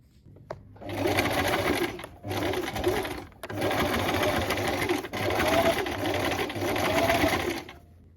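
A sewing machine runs in several steady bursts, stitching a holding seam 3 mm from the edge of fabric for a dress, with brief pauses between runs; close and fairly loud, no talking.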